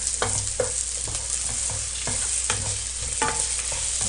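Squid and seafood stir-frying in a pan for spicy seafood ramen: a steady sizzle with repeated close scraping and tapping of a utensil stirring, no talk.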